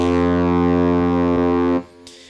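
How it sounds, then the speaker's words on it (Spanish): Layered MIDI trombones playing in unison on one channel, a sustained, steady, loud brassy drone like a ship's horn, held for nearly two seconds before cutting off, with a faint brief tone after. "Veis que empieza a sonar como una bocina de barco, un poco de esa forma"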